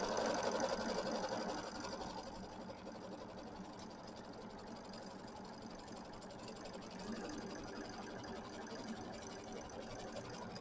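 Sewing machine stitching a placement line on quilt batting for a Kimberbell mini quilt, a faint steady mechanical hum running throughout, slightly louder at the start.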